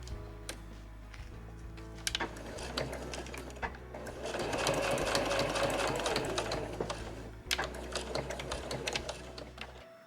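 A sewing machine stitches fabric layers for a reversible drawstring tote, sewing a seam at 1 cm; the steady close motor whir and needle clatter run nearly continuously, building louder through the middle before a brief pause and resuming.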